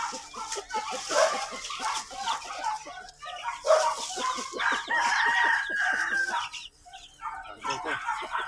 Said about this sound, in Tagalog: Dami na yung manok.